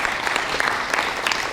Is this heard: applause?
yes